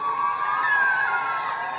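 A crowd at an outdoor Kenyan government health event claps and cheers, with whoops and a rising shout over continuous clapping, loud and close.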